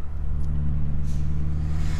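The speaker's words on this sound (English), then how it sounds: "I don't have a blow off valve, it's just the Cobb intake" A Subaru STI S208 engine with a Cobb intake runs steadily with a deep low drone and a faint airy whoosh. The sound is close and loud, with no talk.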